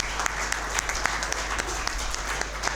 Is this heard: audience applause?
yes